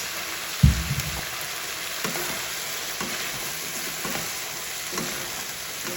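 Radish stir-fries in a pan with shrimp, giving a steady, moderate sizzle with a thump as it goes in and a few soft utensil scrapes, no talking.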